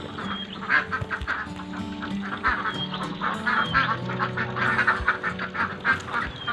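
A flock of laying ducks on a farm quacks continuously and overlapping at moderate distance, a dense chorus of nasal calls in uneven bursts with no one talking.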